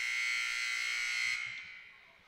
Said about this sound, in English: The buzzer just inexplicably went off